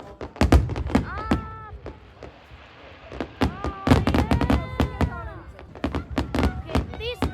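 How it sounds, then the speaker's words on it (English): Bonfire night fireworks go off close by as a string of loud thumping bangs and crackles, some with whistling rises, arriving in quick irregular clusters with a short lull in the middle. "these fireworks are massive"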